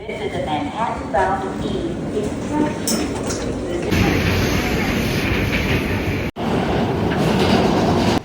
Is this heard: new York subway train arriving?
yes